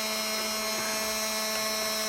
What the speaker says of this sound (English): That's a little loud, eh? Sorry for the annoying fan.